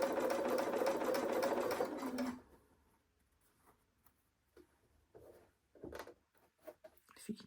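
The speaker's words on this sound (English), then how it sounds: "we are going to pop these under and sew directly on the drawn line" A sewing machine runs fast and steadily for about two seconds while stitching quilt block pieces along a drawn line, then stops, leaving faint handling taps and rustles.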